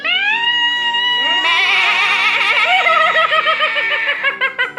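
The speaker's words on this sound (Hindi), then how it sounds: "तो यहाँ पे अब शौर्य बकरा काटेगा।" A goat bleats loudly and continuously up close, its wavering cries stretching over several seconds with no talking, just before it is slaughtered.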